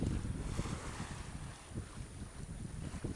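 Wind blowing across a sailboat at sea off the French Riviera coast, a steady rushing buffet with low rumbling gusts against the microphone, close and continuous, faint water wash beneath, no talking.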